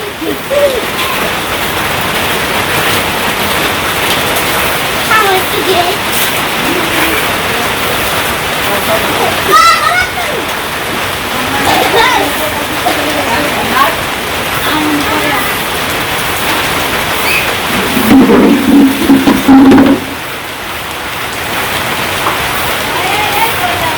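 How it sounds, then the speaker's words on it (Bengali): Light rain falls in a village under a cloudy sky, a steady, fairly loud broadband patter that runs without a break, with faint voices and occasional sounds mixed in. "ওই যে একটু একটু ফোটা পড়তেছে আর কি মেঘলা মেঘলা হয়ে গেছে আকাশ একবারে"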